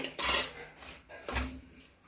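A spoon scrapes and knocks against a bowl while mixing sugar, roasted gram, coconut and sesame into somas stuffing, in several close, uneven strokes with no talking.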